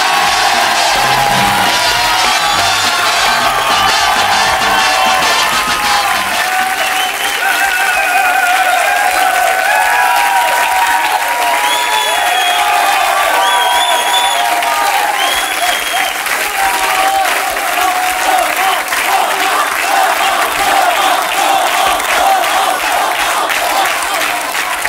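A television studio audience applauds and cheers loudly and continuously, dense clapping with whoops and shouts rising over it, a voice briefly audible amid the crowd noise.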